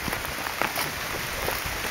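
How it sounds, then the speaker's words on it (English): Hard rain falls in a forest under the tree canopy, a dense, even hiss of drops pattering on leaves and surfaces all around, with no voices. "it's raining pretty hard, but under the canopy of the trees"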